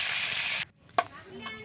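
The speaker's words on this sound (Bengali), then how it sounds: "তো বন্ধুরা ওই তেলেই কলিজাটাও একটু হালকা করে ভেজে নিচ্ছে" Chicken liver frying in hot oil gives a loud, dense sizzle that cuts off abruptly partway through, leaving a quieter pan with a few light knocks.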